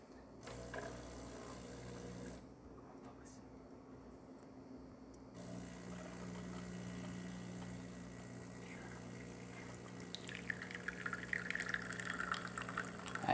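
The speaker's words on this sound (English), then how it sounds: "we're having a good water flow coming out of the machine" Water streams from the spouts of a DeLonghi coffee machine being tested for pressure after a deep clean, a soft steady trickle and splash with faint mechanical hum, growing brighter and a little louder toward the end.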